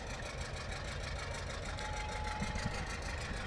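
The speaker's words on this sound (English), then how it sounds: "It must be fun to drive a big tractor like that." A Minneapolis Moline tractor engine runs steadily at a Christmas parade, a continuous loud mechanical rumble with a faint whine, close by and without speech.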